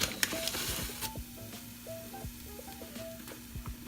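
Onions browned in butter sizzle quietly in a pan as flour goes in for a roux, a soft, steady fry with light scrapes and ticks from a utensil and a faint tonal hum underneath.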